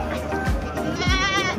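Goats bleat at the Semaung Ponorogo livestock market in Indonesia, a close, loud wavering call sounding twice in quick succession over a busy background of crowd noise.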